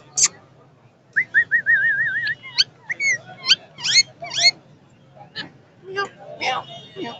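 Pet parrot at a busy bird market in Karachi whistling in a run of short rising notes and warbled trills, near and fairly loud, with crowd hubbub and people talking around it.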